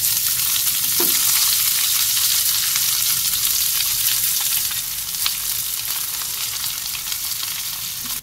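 Chopped onions fry in oil in a pan with dry red chilies and cardamom, a steady, loud broadband sizzle throughout with a brief stir near the start and a slight drop in level midway.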